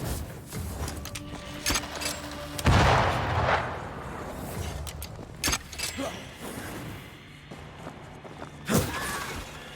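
Several sharp booms and blasts go off at irregular intervals, some heavy and rumbling, others quick cracks, amid scattered game noise in the video game Banishers.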